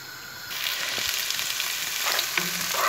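Onion, garlic and meat drop into hot oil in a frying pan, setting off a loud, continuous close sizzle that holds steady with a few small crackles and pops.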